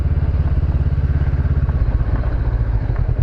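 A heavily loaded motorcycle rumbles steadily nearby with a loud, low engine throb and a pulsing rhythm throughout, some faint clatter mixed in, and no voices.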